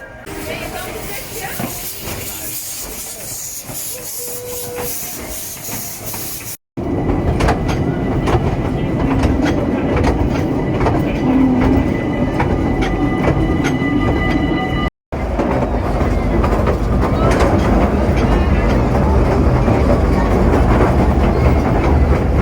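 A train ride at Efteling theme park in the Netherlands rumbles steadily with rattling, clattering carriages and hiss, loud and close throughout, with a couple of brief cuts in the sound.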